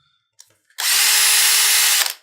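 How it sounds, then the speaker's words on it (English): A Makita HP331DWYE cordless hammer driver drill runs in hammer mode for masonry, a loud high whirring burst lasting just over a second after a few small clicks, then spinning down. "put it in hammer mode so that you can drill through masonry"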